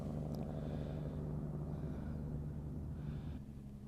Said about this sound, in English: oh, that's a loud logging truck way over there